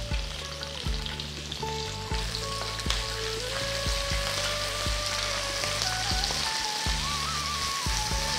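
Thinly sliced onions and curry leaves fry in a pan with a loud, continuous sizzle and crackle that holds steady throughout, with no talking.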